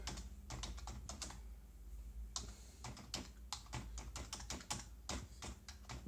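Typing on a computer keyboard in short bursts of quick, close key clicks with brief pauses between runs.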